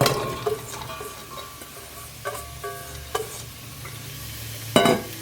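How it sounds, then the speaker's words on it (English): Chopped celery and onion fry lightly in a little oil in a pot for soup, a low steady sizzle broken by occasional clinks and scrapes of a utensil against the pan, close and fairly quiet. "we're just going to lightly fry off the celery and the onion"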